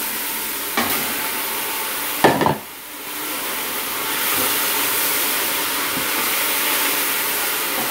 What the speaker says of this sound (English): I'm going to let this cook and get the veggies soft.